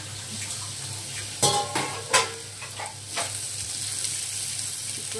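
Potatoes for aloo bhujia frying in a covered pan over a medium flame, giving a steady soft sizzle with a few brief louder scrapes or clatters near the start.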